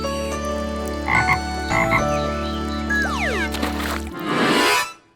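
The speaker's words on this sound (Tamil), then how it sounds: "நான் இந்த தவளைய காயப்படுத்திட்டேன்" Croaking from a cartoon frog in a children's animated story, loud and close, with rhythmic calls, a falling squelchy slide and a brief watery flourish at the end, and no speech.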